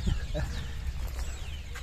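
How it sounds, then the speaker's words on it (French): Birds call outdoors near a small seaside port in Catalonia. Several short chirps and squawks at moderate distance over a low, rumbling background. "Écoutez les oiseaux, là."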